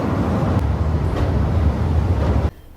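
A train pulling into Banihal railway station in the Kashmir hills, a steady loud low rumble of wheels and carriage noise that cuts off abruptly near the end, leaving near silence.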